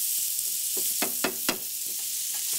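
Onions hitting a hot pan as the base for collard greens, a steady close sizzle with a few sharp crackling bursts and stirring scrapes, no talking.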